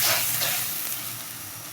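Turmeric, chili and other ground spices fry and hiss in a pan for a rohu fish curry with potato and okra, a close continuous sizzle with a brief sharper spatter near the end.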